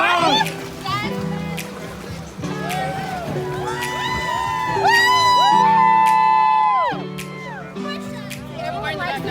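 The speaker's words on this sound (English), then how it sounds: "They see this camera and they yell." Several people on a Missouri river rafting trip yell and whoop loudly and excitedly in overlapping, drawn-out calls, close by and continuous, with splashing water beneath.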